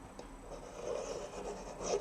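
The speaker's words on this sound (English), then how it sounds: "I'm just going to take a pencil and trace around the bottom of the bauble shape" A pencil traces around the bottom of a bauble shape on paper, giving a soft, continuous scratchy rubbing close by with slight swells in pressure and no talk.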